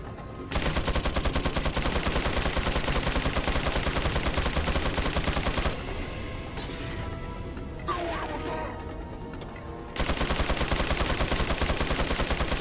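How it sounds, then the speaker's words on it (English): A Gatling gun fires in Resident Evil 4 as a dense, rapid mechanical rattle, pounding loud and continuous. It breaks off for a few seconds, where other game sounds and a voice can be heard, then resumes at full intensity. "Gatling gun."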